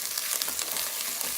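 Garlic sizzles loudly in a hot pan for a masala base sauce, giving a dense continuous crackle heard up close and alone.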